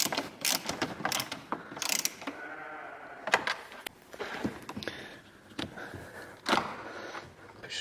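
A screwdriver tightening a screw on the rear light of a Smart Roadster Brabus Coupe makes repeated close ratcheting clicks and creaks in uneven bursts, with plastic handling noises between them.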